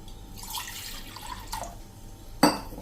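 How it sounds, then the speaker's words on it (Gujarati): A glass of water pours into a cooking pot on the stove, a soft running splash that ends in a sharper clink near the end. "એક તપેલીમાં આપણે 1 ગ્લાસ પાણી મૂકી દેવાનું છે"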